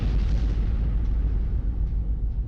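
A Ukrainian MaxxPro armored vehicle hits a mine, a heavy, low, rumbling blast that fills the short span loudly throughout with a dull, sustained roar.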